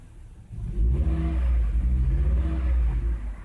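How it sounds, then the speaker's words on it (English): A Volvo car engine running at idle, slightly too slow, with a steady low rumble and a mild rise in revs partway through, close by with no talking. "So those are left on. The engine is now running."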